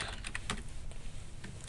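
Keys clatter on a computer keyboard as a word is typed into a spreadsheet cell, a quick irregular run of close, crisp clicks with brief pauses between strokes.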